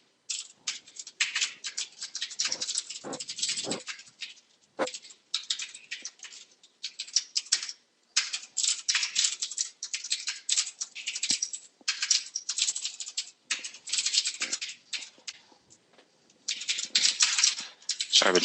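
Someone types code on a computer keyboard in a bright, close clatter of quick keystrokes, running in bursts with short pauses between them.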